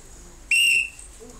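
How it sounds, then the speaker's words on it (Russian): A single sharp, shrill blast from a life jacket safety whistle, loud and close, lasting about a third of a second against quiet background. "Если фонарь по какой-то причине перестает работать, вы используете свисток."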